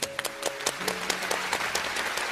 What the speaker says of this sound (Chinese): 再次给他鼓掌。